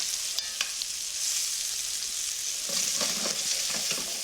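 Scallops sear in a hot pan, a steady bright sizzle with a few sharp pops early and denser crackling bursts toward the end as they are turned.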